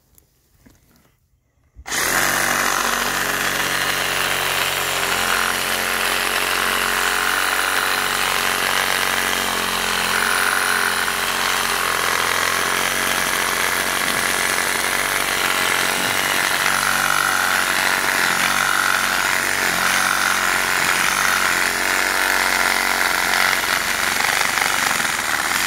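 A Makita 18 V cordless reciprocating saw cuts through oak, a steady, loud, buzzing drone that starts abruptly after a short quiet lead-in and runs without a break to the end.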